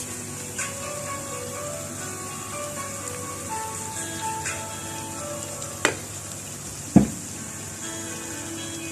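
Chili sauce and tomato sauce are mixed together for a homemade chicken pizza, a soft wet stirring texture running steadily, with a couple of sharper clicks from the utensil near the end.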